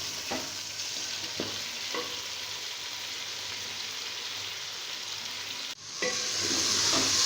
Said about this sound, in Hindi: चिकन डाल के इसको 5 से 10 मिनट अच्छी तरह से भूनेंगे